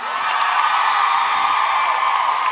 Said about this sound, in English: you can clap for that if you'd like